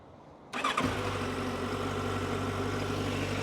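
A 2008 Yamaha FZ-1S motorcycle with 30,000 km on it fires up after a short crank, then settles into a steady, loud, close idle that runs unbroken to the end with no talk.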